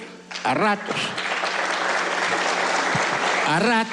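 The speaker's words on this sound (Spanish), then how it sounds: "cuando oigo los aplausos digo, caramba" Applause fills a legislative assembly during a presidential address, a broad steady wash of clapping lasting throughout, with a voice speaking briefly at the start and end over it.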